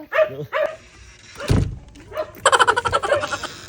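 Several dogs bark and yip in short bursts near the listener at a house visit, with a run of rapid, overlapping barks toward the end and a brief thump in the middle.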